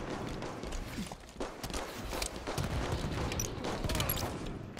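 Rapid gunfire in the Halo 5 video game, a dense continuous rattle of shots over a loud mixed game soundscape, steady throughout with no voices.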